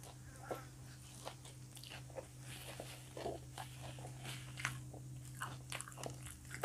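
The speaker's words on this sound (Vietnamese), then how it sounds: "Anh mời cả nhà ăn đùi gà rán nha." Faint, scattered crunches from someone biting into a crisp fried chicken drumstick, with a low steady hum underneath and otherwise quiet.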